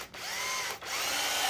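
A power drill bores into a pallet wood board, whining loudly and steadily at close range, with two brief dips where the motor eases off before spinning back up.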